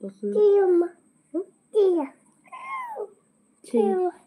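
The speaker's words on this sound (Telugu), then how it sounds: "ఇక్కడే ఉంది పిల్లి. రాబాక పిల్లి" A cat meows repeatedly and close by, four or five drawn-out, wavering meows separated by short silences, loud and clear against a quiet room.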